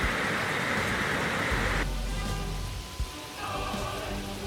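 Heavy rain pours onto cars and trucks on flooded streets during record flooding in Chongqing, China, a dense continuous wash that is loud and steady throughout, thinning slightly partway through, with no voices.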